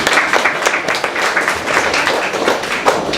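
An audience at an event held at a ministry claps for several seconds, a fairly loud, dense patter of hands with occasional sharper claps standing out.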